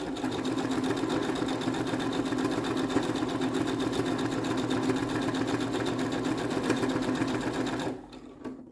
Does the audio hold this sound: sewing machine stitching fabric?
yes